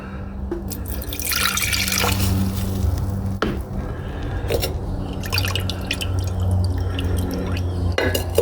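Water running and dripping while gold is rinsed to wash out hydrochloric acid, a steady close trickle with scattered drips and splashes, no voices.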